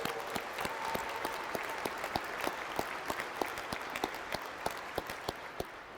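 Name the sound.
law school graduates applauding at commencement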